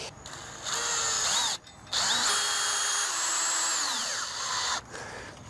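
Power drill driving 3-inch wood screws through fender washers while installing fence extenders, two loud close whining bursts with a short pause between them, the second run slowing slightly near its end.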